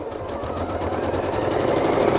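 A sewing machine stitches a quilt border, its rapid mechanical whirr running continuously and growing slightly louder toward the end, with no talk.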